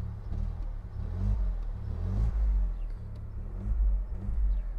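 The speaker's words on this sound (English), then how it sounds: "So you can hear the petrol nicely" A 2023 Dacia Jogger petrol engine idles steadily just before switch-off, a continuous low, smooth hum with a faint mechanical ticking, heard alone at close range.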